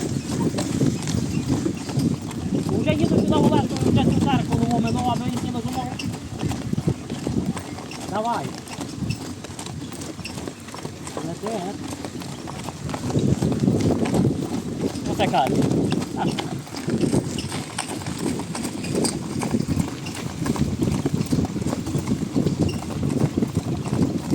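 Hooves of a Breton mare in Ivano-Frankivsk Oblast, a marathon-driving horse, clip-clopping at a steady trot throughout, with people talking over it and a rumbling background.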